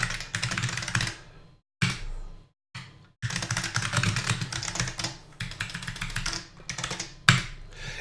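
Quick bursts of keystrokes on a computer keyboard while entering an address into a NeXTSTEP card file program, close and clear, with short pauses between runs of typing and no speech.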